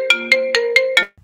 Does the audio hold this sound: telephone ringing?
yes